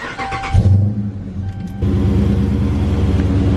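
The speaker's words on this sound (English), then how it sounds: "Let me just start the car real quick." A Dodge Charger R/T engine cranks briefly, catches with a loud rev, then settles into a steady, deep idle heard up close.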